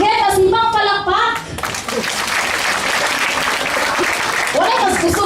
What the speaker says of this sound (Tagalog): Again, masibang palakpak!